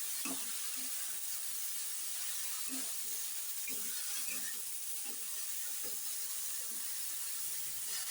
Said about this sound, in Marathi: छान अशी परतून घ्यायची